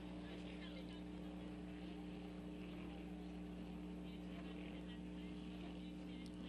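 Racing boats in a 5-litre class run at the 1990 Valleyfield regatta, a continuous engine drone with steady hum filling the scene, loud and sustained throughout with a commentator talking over it.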